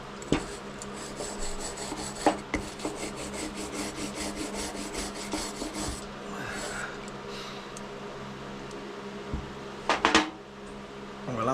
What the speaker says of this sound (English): This brush is really soft, so we ain't going to put any gouges in it or anything like that.